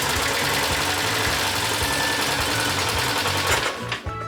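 A Citroën 2CV's small air-cooled twin-cylinder engine runs loudly and steadily right next to the mic, a dense rapid chatter with a regular low pulsing throughout, dipping briefly near the end.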